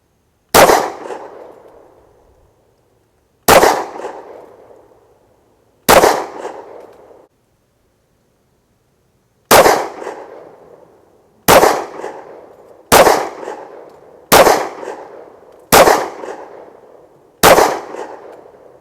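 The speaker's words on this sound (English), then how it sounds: "let's see if the old Olight will withstand the recoil from this snappy little 10." Nine sharp gunshots from a Springfield Armory XDM Elite OSP Compact 10mm pistol, fired one at a time at an outdoor range with an Olight Baldr weapon light mounted, loud and close, each crack trailing off before the next, spaced irregularly.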